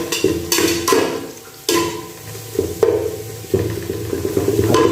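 Red chili and turmeric powder roast in a pan for a lentil dish, with a low sizzle under repeated scraping and clanking of a spoon against the pan in several distinct strokes, close and moderately loud.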